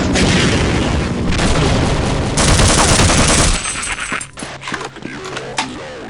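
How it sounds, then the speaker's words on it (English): Weapon gunfire effects from the video game Half-Life: loud, dense rattling bursts and booms that run continuously, then thin out into scattered sharp shots and echoing impacts toward the end. "the punchy and stellar sound effects, especially from the weapons"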